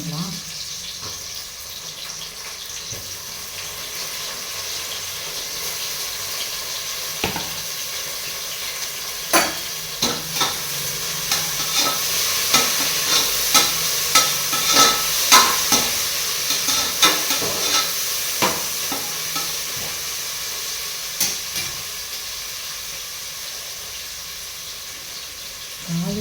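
Green chillies sizzle in a hot pan as they are stirred, with a steady frying hiss and a run of sharp scraping clicks partway through. A voice is heard faintly at times under the cooking noise.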